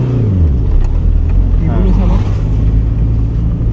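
A car engine in a driving lesson revs steadily and loudly as the clutch is released, a continuous close rumble that rises slightly, with a voice speaking over it.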